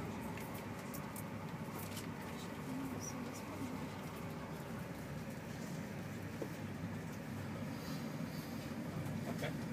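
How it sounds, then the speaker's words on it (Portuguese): A steady, broadband rumble of a train rolling past, continuous and fairly loud throughout, with faint higher rattles and squeaks on top. "Não passou um trem aí."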